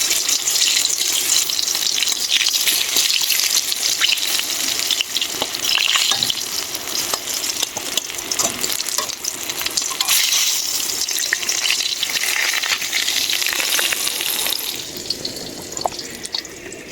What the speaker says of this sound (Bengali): মাছ ভাজি হচ্ছে বন্ধুরা, মাছ দিয়ে দিয়েছি।